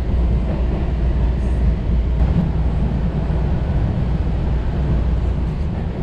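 Steady rumbling of a moving Miami Metrorail train interior, a continuous low roar with rattling, no voices, heard from inside a carriage.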